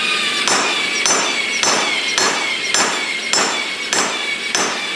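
Steady blows from a homemade hammer with a railway-track head ring out about once every half second, loud and close, each strike bright and clanging, forging metal with no talking.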